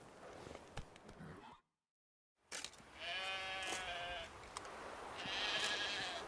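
Sheep bleat in The Witcher 3 video game, a couple of drawn-out wavering bleats after a brief silent gap, fairly close and clear over soft ambient game noise.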